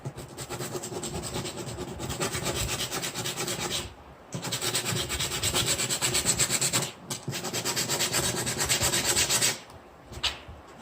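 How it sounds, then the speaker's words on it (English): A guitar saddle ground down against an abrasive surface in three long rhythmic rubbing bursts, close and steady, separated by short pauses. "start grinding your saddle."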